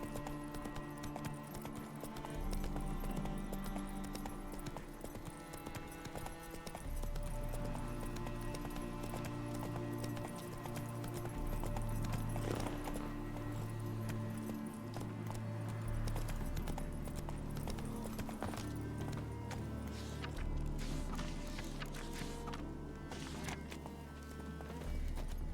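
Hooves of Roach, a horse in The Witcher 3: Hearts of Stone, clip-clop in a steady galloping rhythm over continuous game music, close and loud throughout.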